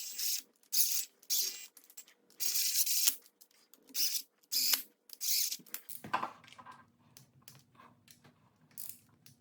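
A torque wrench ratchets in short clicking bursts while tightening bolts on a Subaru WRX engine oil pump, close and crisp, with a brief tool clank and quiet pauses between bursts.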